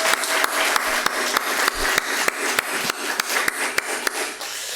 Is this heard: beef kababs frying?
no